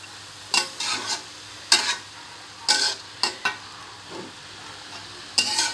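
Cabbage and potatoes tossed into a hot frying pan, with several separate bursts of scraping and stirring over a faint sizzle, close and fairly loud.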